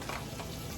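French toast fries in butter in a pan, giving a brief, steady, close sizzle with no voices.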